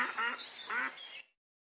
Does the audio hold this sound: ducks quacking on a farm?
yes